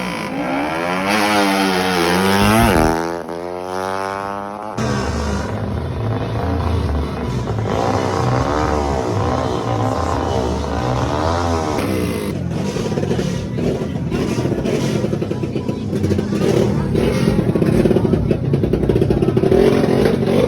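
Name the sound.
drag race motorcycles test riding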